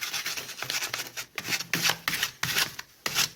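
Coarse abrasive rubbing of sandpaper on a car battery terminal in short repeated strokes, a dry scratchy rasp coming close and steady with brief pauses between passes.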